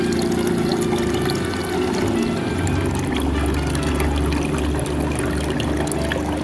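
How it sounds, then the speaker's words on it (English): Hot water runs steadily from a hot water tank's outlet, a continuous close splashing pour with a faint low gurgle beneath. "Let this hot water run for a moment."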